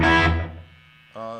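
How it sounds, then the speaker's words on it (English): Electric guitar played through an amp with gain and a short slapback delay from a TC Electronic effects unit, a sustained chord decaying over about half a second before a fresh, quieter note rings in near the end. "Most of what you're hearing right now is just the amp."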